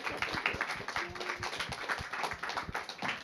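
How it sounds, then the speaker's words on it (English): Small-room audience at a documentary Q&A clapping, a fairly quiet, dense patter of handclaps continuing steadily throughout with no voices on top. "So just a big round of applause for all the people who are involved."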